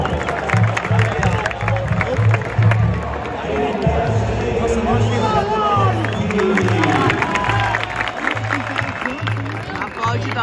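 A large stadium crowd fills the space with steady applause and cheering, dense and continuous, with scattered shouts over a low rhythmic thumping, at a Santos versus Bahia Copa do Brasil football match.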